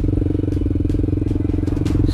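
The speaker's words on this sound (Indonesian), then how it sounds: "Untuk yang kedua kalinya motor gua masuk ke hutan nih cuy" A motorcycle rides into a muddy, slippery forest, its engine chugging loudly and close with a fast, pulsing rumble and some clattering, while a voice talks faintly beneath it.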